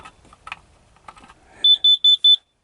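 A carbon monoxide alarm gives four sharp, shrill beeps in a quick, even row, loud and close, after some quiet rustling.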